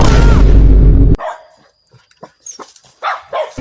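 A dog barks loudly and close in a dense, sustained burst lasting about a second, followed by quieter scattered rustles and faint knocks.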